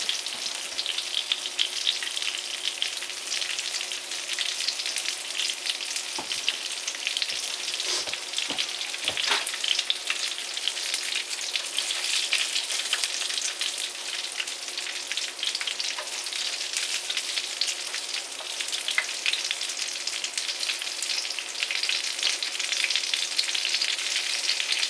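Chicken patties fry in a pan with a steady, bright sizzle that lasts the whole time. A few soft clicks and taps of utensils break through, and nobody speaks.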